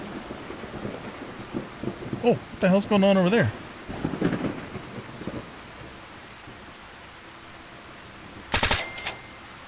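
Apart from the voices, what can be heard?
heavy rain and thunder in the video game Fallout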